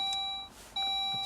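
Saab 9-3 door-open warning chime, two short electronic beeps separated by a brief gap, clear and fairly quiet inside the car.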